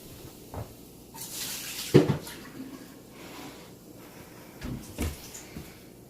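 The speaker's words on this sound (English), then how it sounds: "let me take some of this water out" Water poured and splashed out of a pot of soaking frog legs in a kitchen, with a few short sloshing bursts and clunks of the pot, and no talk.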